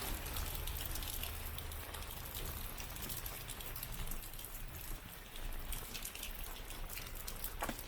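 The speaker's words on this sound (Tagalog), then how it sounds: "inabot kami ng malakas na ulan" Heavy rain near Wulai, Taiwan, hisses densely and evenly throughout, a continuous wash of falling water with no voices.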